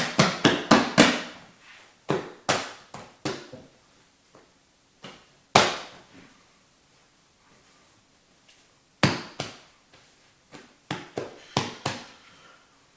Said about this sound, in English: I'm going to give this another fold to get some strength back into the dough.